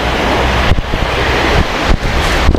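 Roar of the River Ng'onyi waterfall in Meru, Kenya, seen from a distance as a steady, loud broadband rush, mixed with wind buffeting the microphone and a few brief dips.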